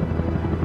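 A helicopter flies with its loud, dense rotor rumble filling the moment steadily from start to finish, close and constant, with no voices.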